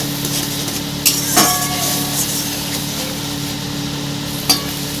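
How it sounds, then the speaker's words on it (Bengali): A hilsa fish-head dish with salt and turmeric is stirred in a pan, giving a steady frying sizzle with a few sharp scrapes and clinks of the spoon. "দিয়ে আমি ভালো করে এটাকে নাড়িয়ে নেব।"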